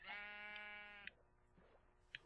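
A Minecraft sheep gives one drawn-out, buzzy bleat lasting about a second, followed by faint clicks and small game sounds in a quiet background.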